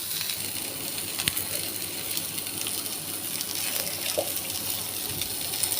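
Water poured into a kadhai for boiling drumsticks, a steady hiss-like wash of pouring with faint clinks, moderately quiet and continuous throughout.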